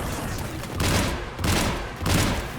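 Gunfire in the video game Mass Effect 3 during the Thessia mission: three loud, dense bursts of rapid shots, each lasting about half a second, over a steady background of battle noise.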